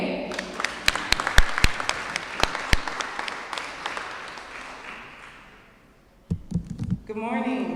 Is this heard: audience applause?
yes